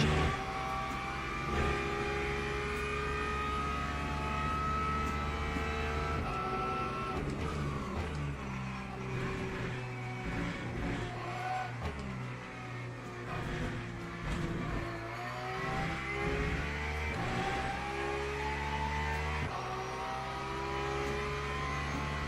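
Hypercar engine roaring loud and steady on track in a Le Mans racing game, with a sustained revving drone and shifting tones as cars pass, no talk over it.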